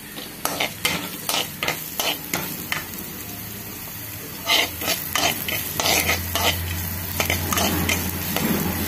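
Chopped onions sizzle in a hot pan while being stirred, with repeated sharp scraping strokes of the spoon against the metal over a steady frying hiss.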